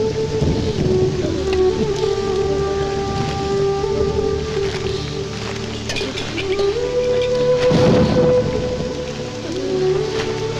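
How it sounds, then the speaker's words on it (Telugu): Heavy rain pours down steadily with a continuous dense hiss, and low rumbles of thunder rise and swell across it, loud and close throughout, with no speech. "ఇప్పుడు అర్ధంతరగా ఈ వర్షం పట్టుకుంది."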